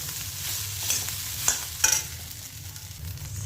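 Sabudana, soaked tapioca pearls for khichdi, being stirred and fried in a pan, with soft scraping and a low sizzle plus a few sharp clinks of the spoon against the pan, no talking.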